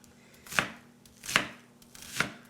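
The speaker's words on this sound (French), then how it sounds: "je vais le couper en gros cubes." An onion is diced into large cubes with a knife on a cutting board, giving three distinct, evenly spaced chops, close and fairly crisp, with no talking.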